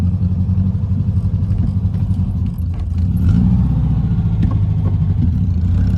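A loud, rumbling exhaust from a 1952 Volkswagen Beetle with Weber carburetors drones steadily at low pitch, growing slightly louder midway as the engine pulls, with faint rattles over the throaty note.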